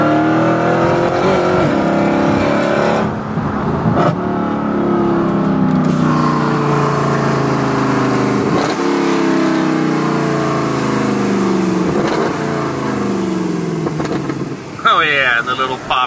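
A Mercedes car engine revs hard through rising and falling gear sweeps, loud and close from inside the car, with a few sharp exhaust pops near the end and a voice speaking over it.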